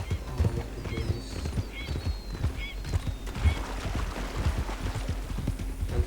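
Horse hooves clip-clopping in Red Dead Redemption 2, a steady close trotting rhythm of dull thuds throughout, with a faint whinny and light background ambience, no voices.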